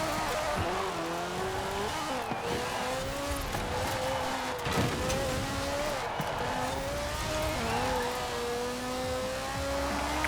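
A racing car engine in Forza Horizon 4 drones steadily for about ten seconds, its pitch stepping up and down through repeated gear changes, with a few tire noises mixed in.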